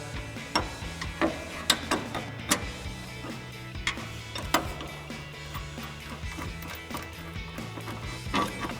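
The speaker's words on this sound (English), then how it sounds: "Now we're going to switch out to a regular 18 millimeter open end wrench because the end of this stud gets a little shallow." A regular 18 mm open-end wrench clicks and clanks against a sway bar end link nut on a 2005-2014 Mustang during a coil-over install, giving irregular metallic ticks and short ratcheting bursts at close range.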